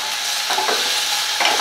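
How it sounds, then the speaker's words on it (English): Potatoes and sliced onion fry in a pan for a Spanish omelette, giving a steady, close hiss of sizzling oil with a couple of brief stirring scrapes, and no voices. "and sliced onion. We need to fry it"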